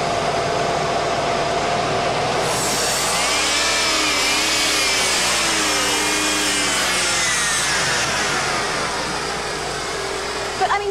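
A Ford car engine idles steadily during a cruise control fault test, a continuous broadband mechanical drone with shifting whine overtones, loud and close, with faint talk underneath.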